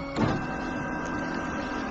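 A sewing machine stitching across a quilt-as-you-go border, a steady continuous mechanical whir with a brief louder start, close by and unaccompanied by talk.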